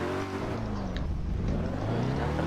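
A car engine drives steadily in the video game Garry's Mod, a continuous mid-loud drone whose pitch climbs and shifts as it accelerates, with no voices.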